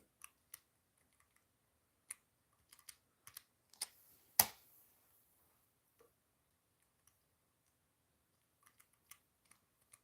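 Sparse, quiet keystrokes on a computer keyboard, a few isolated taps spread across the stretch with one sharper, louder clack near the middle, no voices.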